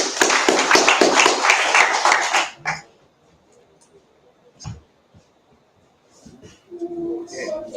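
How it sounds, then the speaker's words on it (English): An audience breaks into a round of applause, dense and fairly loud clapping for about two and a half seconds before it stops abruptly, followed by a few scattered knocks and faint voices in a quiet room. "give it a round of applause"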